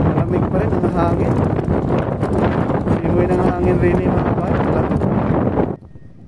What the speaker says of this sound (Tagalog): Malamig pa rin ang hangin.